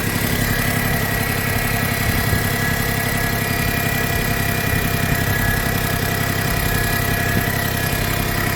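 A Smart fortwo engine idles loud and close with a steady, rough mechanical drone and vibration, suspected of misfiring, continuing unbroken with no speech.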